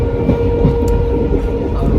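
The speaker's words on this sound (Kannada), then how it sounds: "ಈ ಟ್ರೈನ್ ಸೌಂಡಲ್ಲಿ ವ್ಲಾಗ್ ಮಾಡೋದಕ್ಕಾಗಲ್ಲ, ಟ್ರೈನ್ ಸೌಂಡ್ ಇರುತ್ತೆ." A train running on rails makes a loud, steady rumble and rattle that fills the whole stretch without a break, with no talking.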